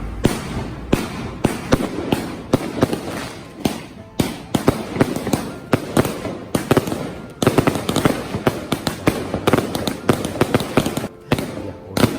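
Firecrackers bursting at a Chinese wedding, with loud, close, rapid irregular cracks and pops firing in continuous volleys throughout.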